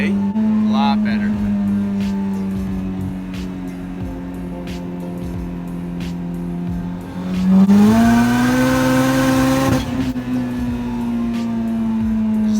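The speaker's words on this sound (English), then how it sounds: "let's see if the turbo surge is gone" Turbocharged Honda H22 engine idling, then revving up sharply and settling again as the turbo is checked for surge, fairly close and loud, with people talking over it.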